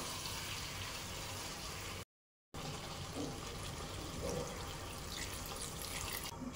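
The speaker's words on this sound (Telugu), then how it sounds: "ఇప్పుడు మనకి ఎంత వాటర్ కావాలో అంత వాటర్ మనం యాడ్ చేసుకోవాలండి" Water pours steadily into a pot of dhaba-style chicken curry, a continuous quiet rushing stream broken by one short gap.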